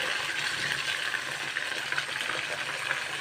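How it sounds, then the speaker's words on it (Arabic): Water splashed into a hot pan of sizzling shish tawook chicken pieces, giving a steady broadband hiss and crackle of frying that runs evenly throughout at moderate level. "بحطه واحط له شقشاق ميه"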